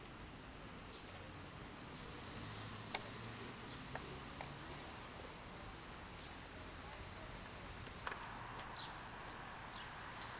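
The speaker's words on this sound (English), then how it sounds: "People riding horses" Horses walking on the Gettysburg battlefield trails, hooves clip-clopping faintly at a distance in a steady, sparse rhythm against broad outdoor noise.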